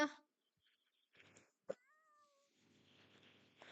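A cat meows once, a drawn-out wavering cry, in a quiet room, bracketed by short bursts of nearby noise and soft background hiss.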